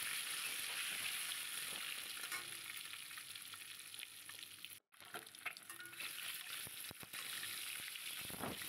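Eggs frying in oil with turmeric give a continuous bright hiss and crackle, close and even, with a brief dropout midway and occasional small pops.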